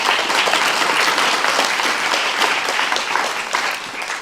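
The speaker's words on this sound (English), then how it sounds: "let's give them a round of applause" A crowd applauds at a Guide Dogs for the Blind class graduation, dense sustained clapping throughout that stays loud and close before easing slightly at the end.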